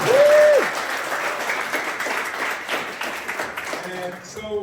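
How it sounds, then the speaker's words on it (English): Applause from an audience at the UNLV boxing gym reopening, a dense burst of clapping that fades gradually, with a brief tone at the very start. "We give another round of applause for just everyone."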